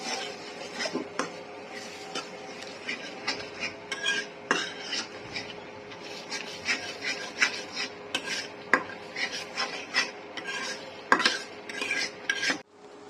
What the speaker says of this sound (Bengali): এখন হলুদের গুঁড়ো দিয়ে ভালো করে মশলাটা কষাতে হবে